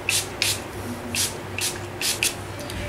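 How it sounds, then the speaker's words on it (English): Chi 44 Iron Guard heat protectant hisses from a spray bottle onto hair in short, close bursts, about five quick pairs of sprays in a steady rhythm. "I will have to spray on some heat guard, or rather iron guard"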